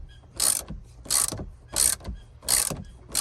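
Hand ratchet loosening a 10 mm nut on a dead 12-volt battery in a 2012 Chevy, four rhythmic bursts of close, loud clicking, evenly spaced with short pauses between.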